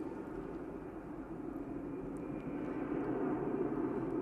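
An EasyJet airliner arriving at Manchester Airport, a continuous broad engine roar that swells slightly louder toward the end, steady and fairly distant, with no speech over it.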